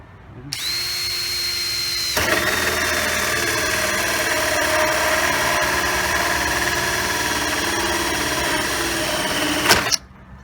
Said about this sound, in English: we're going to take our drill and we're going to drill as many holes